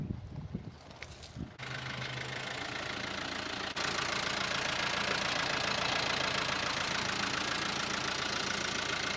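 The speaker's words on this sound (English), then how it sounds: "You see the big green truck is here." A big green truck's engine idles steadily nearby, a continuous low rumble with a faint rattle, starting after a brief quieter moment and holding level to the end.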